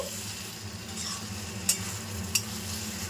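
Banana flower curry cooking in ghee in a pan, stirred steadily with a spoon: a continuous close sizzle with soft scraping strokes and two sharp metallic clicks of the spoon against the pan.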